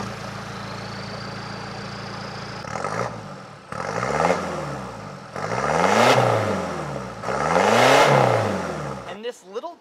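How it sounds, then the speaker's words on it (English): A diesel minivan with an EGR delete revs repeatedly through a full custom exhaust, four loud rising-and-falling engine sweeps following a quieter idle, ending in a brief clatter. "This one does have an EGR delete, and it sounds very nice breathing through a full custom exhaust."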